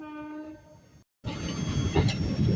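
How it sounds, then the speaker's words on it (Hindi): An Intercity Express train pulls into Dariyapur Junction on the Prayagraj–Lucknow line. A sustained tonal horn-like note sounds first, then a brief gap of silence, then a loud, continuous rolling rumble of the moving train up close. "तो पहुँच रही है ट्रेन हम लोगों की अब दरियापुर जंक्शन पर।"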